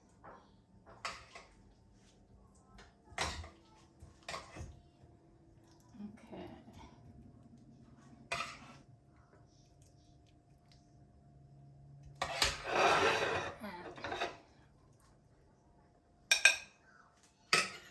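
Marinated squid and potato being plated, with scattered clinks and knocks of utensils against a plate in a quiet kitchen, one longer scraping rattle midway, and a voice talking at times.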